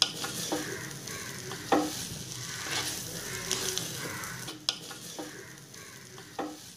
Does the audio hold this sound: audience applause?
no